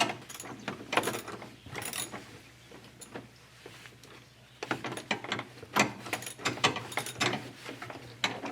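A ratchet on a long extension with an elbow and a 13mm socket turns a hood latch nut, giving bursts of quick, close clicking separated by short pauses, with no talking.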